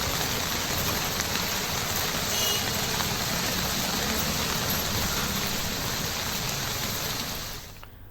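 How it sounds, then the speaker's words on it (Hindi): Heavy monsoon rain pours down steadily in Prayagraj, a dense, loud, unbroken hiss that fades slightly at the very end. "शहर के कई इलाकों में झमाझम मूसलाधार बारिश हुई है"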